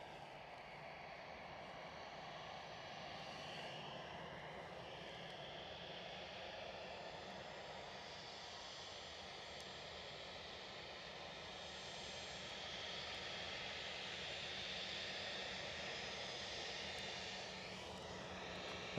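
Ryanair Boeing 737 arriving at Edinburgh Airport, a continuous broad engine roar and whine that swells slightly as it approaches, heard from a distance with no talk.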